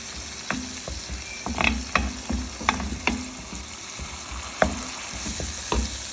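Dried plums (aloo bukhara) sizzling and frying in a pot for Muharram-style white chana pulao, with a steady close hiss broken by several sharp stirring clatters and pops of the spoon against the pan.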